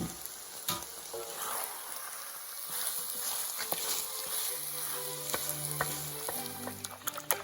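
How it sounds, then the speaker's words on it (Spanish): Fried crispy straw potatoes being stirred into salt cod and eggs in a pan for Portuguese bacalhau à Brás, with a steady sizzle and scraping mixing strokes throughout. "las patatas paja que hemos frito, crujientitas, se las echamos también y las mezclamos"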